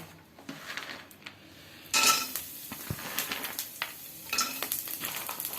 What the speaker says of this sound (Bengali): এবার আমন্ড আর কাজুটা ভেজে নেব এতে।